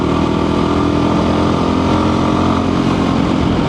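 Voge 300 Rally motorcycle riding fast on compacted dry dirt, its engine giving a steady loud drone with rushing wind noise, continuous and close throughout.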